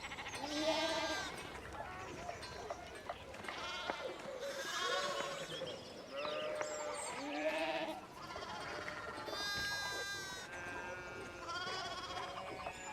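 Sheep bleat over and over in the medieval village of the video game Pentiment, a flock of overlapping calls of varied pitch rising and falling at moderate loudness, with no talk over them.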